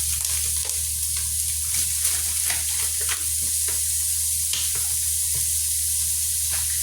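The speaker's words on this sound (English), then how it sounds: "okay, so now my bacon bits go inside" Bacon bits frying in a pot give off a loud, dense, continuous sizzle with faint crackles, heard up close with no one speaking.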